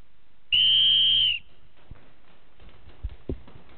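A single loud, steady referee-style whistle blast lasting almost a second signals the start of an airsoft game, followed by faint scattered movement and a couple of soft knocks.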